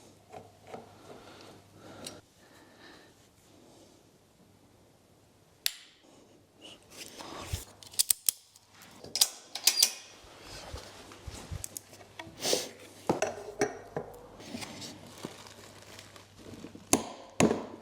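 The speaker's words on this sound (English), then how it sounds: "This should be torqued to 80 Newton meters." A torque wrench tightens a bolt on an old Volkswagen engine to 80 newton meters in a workshop, with a run of close metallic clicks, ratcheting and scraping in irregular bursts over a quiet background, with no talking.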